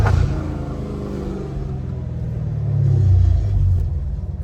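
A Dodge Challenger Hellcat Redeye with a titanium catless exhaust, heard close as a deep, throaty idle rumble that climbs into a rev past the middle, then eases back down.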